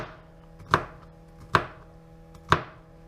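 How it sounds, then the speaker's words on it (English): A knife chops through celery on a cutting board while making crock pot chicken noodle soup, three sharp, evenly spaced cuts close to the mic with quiet pauses between them. "And then you'll just continue to cut the celery."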